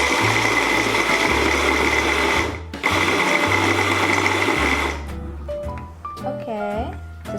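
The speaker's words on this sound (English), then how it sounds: "Food processor, and let's see if it works." A food processor chops cauliflower florets into rice for saffron cauliflower rice, its loud steady whirring motor running in two bursts with a brief pause, then stopping as lighter clinks and kitchen sounds follow.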